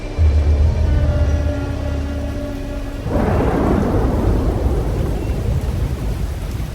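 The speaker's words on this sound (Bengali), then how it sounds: "বৃষ্টিটা যেন আবার জোরে নামলো।" A heavy rainstorm pours down steadily as a low rolling thunder rumble fades, then a surge of louder, denser rain takes over, a sustained roar with no voices.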